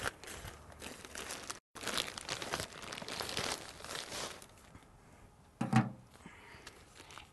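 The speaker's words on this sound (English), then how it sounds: "So the compost, we're just going to cut the bag open." A plastic bag of garden compost is cut and ripped open with a tool, giving continuous close crinkling and crunching plastic, a brief pause, then quieter rustling and a sharp thump near the end.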